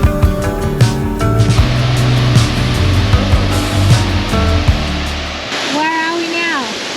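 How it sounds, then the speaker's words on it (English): Millstream waterfall on the way to Tully Falls in Queensland, a wide cascade pouring over a broad cliff face into a pool, roars steadily and loud as dense broadband rushing water, with engine-like hum and people talking mixed in. "Millstream waterfall on the way to Tully"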